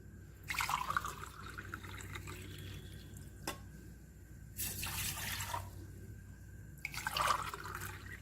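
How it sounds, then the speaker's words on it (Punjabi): Water is poured from a glass into a cooking pot on a gas stove in two or three distinct splashing bursts separated by quieter pauses, close and clear with no talking. "ਦੋ ਗਲਾਸ ਆਪਾਂ ਪਾਣੀ ਦੇ ਭਰ ਕੇ ਪਾਵਾਂਗੇ"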